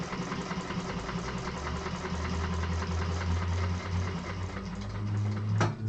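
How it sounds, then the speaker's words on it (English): An industrial sewing machine runs steadily, chain stitching with a fast mechanical hum and rhythmic needle clatter, close and continuous with a brief knock near the end. "I'm going to chain stitch these just because being on an industrial, I don't have a thread cutter."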